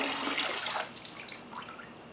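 Water drains from a flooded engine into a bucket, a splashing pour that is stronger at first and then eases to a lighter trickle, heard up close.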